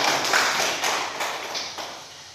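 A class of students claps in time, a rhythmic patter of many hands that starts strong and gradually grows softer.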